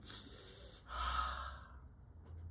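A voice imitates a deep sniffing breath, as when smelling something, with two long, forceful inhalations through the nose, close and fairly quiet, followed by a short pause.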